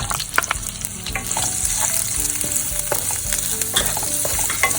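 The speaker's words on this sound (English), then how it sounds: "I'm going to add the onions." Onions sizzle and fry in hot oil with bay leaf, cardamom and cinnamon sticks, a steady close crackle broken by the scrape and clatter of a spoon stirring the pan, with no talking.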